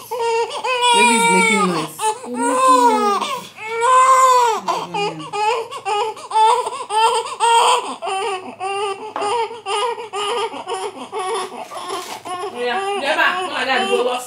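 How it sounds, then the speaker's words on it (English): A newborn baby, a few hours old, fusses and wails in bursts near the microphone, mixed with giggly vocal sounds and babbling throughout. "Baby's making noise."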